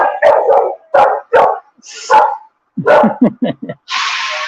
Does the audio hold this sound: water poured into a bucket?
no